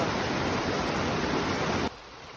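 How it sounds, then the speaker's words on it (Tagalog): Water gushing from a vent on a water supply pipe in a forest, a loud continuous broadband hiss and rush that drops abruptly to a quieter level near the end. "may pasingawan na naman ng tubig"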